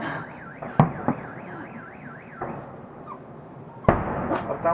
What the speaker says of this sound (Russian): сигналки сразу сработали у всех